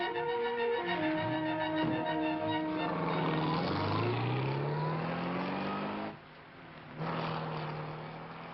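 A 1940s car pulling away, its engine revving in climbing and falling tones that grow busier as it gets under way, then a brief drop in level before the motor sound returns and slowly fades.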